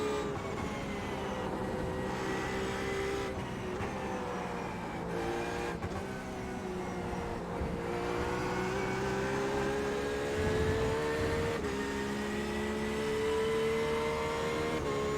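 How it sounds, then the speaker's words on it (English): A steady, droning engine roar from a race car in the iRacing simulator, with shifting pitch as it revs up and down through gears, continuous and fairly loud. "is the sound of a combustion engine."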